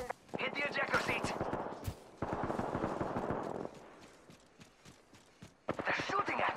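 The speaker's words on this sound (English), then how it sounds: "They're shooting at me!" Enemy gunfire in a video game, with rapid bursts of rattling shots running almost continuously and pausing briefly, loud and close, while a person talks over the shooting.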